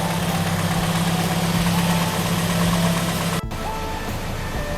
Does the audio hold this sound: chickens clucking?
no